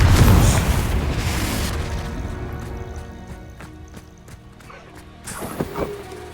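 A Confringo blasting spell in Hogwarts Legacy erupts in one loud, close boom that rumbles and fades over a couple of seconds, followed by faint clattering and a smaller burst near the end.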